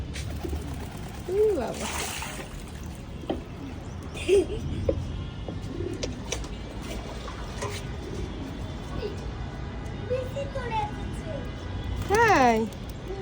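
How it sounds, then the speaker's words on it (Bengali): Pet pigeons cooing at home, soft occasional coos and rustles heard faintly beneath adults and a small child chatting nearby, with a few louder calls toward the end. "এই দেখেন আমাদের কবুতর।"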